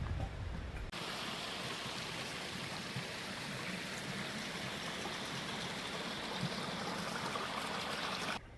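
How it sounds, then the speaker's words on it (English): Small streams running down a forested hillside along the Lower Big Quilcene River Trail in December after snow and rain, a steady, close trickling and babbling that holds evenly throughout with no talking. "There's lots of these little streams running down the hill."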